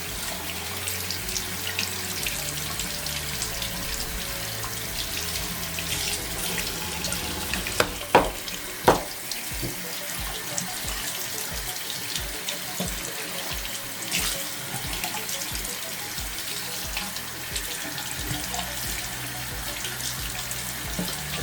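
Water runs steadily from a tap over a Samsung Galaxy Z Fold 7 phone, a continuous close splashing stream with a couple of brief knocks midway.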